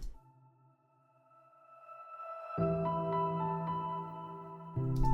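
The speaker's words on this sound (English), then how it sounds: "some sort of sound design thing that I just created with the piano, like a reverse and then a ping" A swelling, reversed-sounding piano tone rises slowly, then a bright sustained chord lands, followed near the end by a short, crisp ping.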